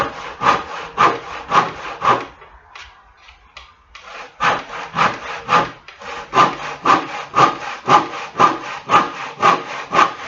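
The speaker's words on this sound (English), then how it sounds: "But quickest way is with a saw," A hand saw rips through wood for a chess board, its strokes steady and rhythmic, close and loud, with a short pause a few seconds in before the back-and-forth cutting picks up again.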